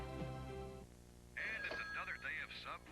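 A telephone bell rings briefly in a 1991 radio advert, a short ring of under a second at the start, followed at once by a voice talking.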